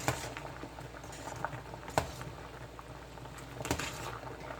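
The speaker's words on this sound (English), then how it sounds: "this has been boiling for about 5 minutes" A pot of water at a full rolling boil for cooking sea snails, with irregular bubbling and popping and a few sharper clicks or knocks, close and moderately quiet.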